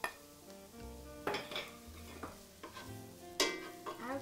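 Garlic is stirred and scraped in a pan for a truffle risotto. A utensil clinks and scrapes against the metal several times over a faint, steady sizzle of frying.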